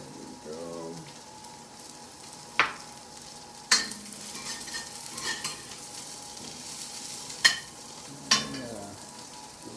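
Brussels sprouts sizzle in hot oil in a pan for chow mein, a steady frying hiss broken by several sharp clacks of a utensil stirring and scraping, with faint speech now and then.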